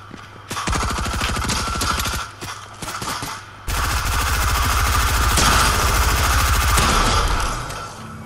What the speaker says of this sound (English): I'm literally getting shot at.